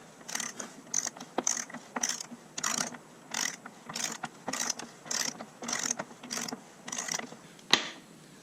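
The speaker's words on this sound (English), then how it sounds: "When using a torque wrench, you want to give it smooth, even pressure." Repeated ratcheting clicks from a torque wrench tightening the rear wheel axle nut on a Suzuki GSX-R 600/750, about a dozen even strokes in a steady rhythm, close and crisp with no talking.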